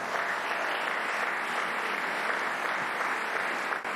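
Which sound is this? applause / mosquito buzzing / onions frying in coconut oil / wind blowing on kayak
applause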